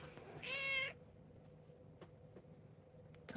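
A cat gives one short, clear meow nearby, followed by quiet room background with a few faint taps.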